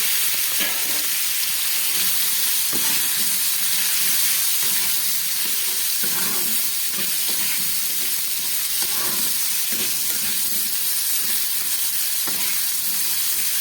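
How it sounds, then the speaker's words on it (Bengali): Mixed vegetables, pumpkin, potato, pointed gourd and eggplant, frying in hot oil, a steady loud sizzle with occasional stirring scrapes throughout, no talking. "খুব ভালো করে আমি ভেজে নিচ্ছি"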